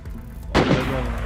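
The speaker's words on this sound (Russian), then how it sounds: "Выстрел!" A single gunshot goes off nearby in the survival video game DayZ, a sharp, loud crack with a lingering echoing tail that follows a moment of quiet background.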